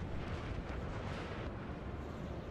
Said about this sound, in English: Now he does have the cannons. And is able to blast me, however.